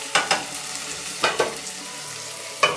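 Red potatoes sizzle in a hot pan, with a few bursts of scraping and stirring rising over the steady frying hiss, close up and with no voices.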